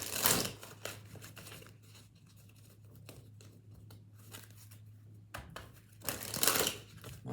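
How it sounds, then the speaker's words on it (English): Tarot cards being shuffled by hand, with crisp riffling and rustling bursts at the start and again near the end, a quieter stretch of soft card handling in between, and a steady low hum underneath. "One more shuffle."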